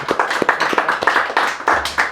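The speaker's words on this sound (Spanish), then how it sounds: "No me aplaudan porque me choco." A small group claps in a steady run of sharp, close hand claps lasting about two seconds, loud and alone.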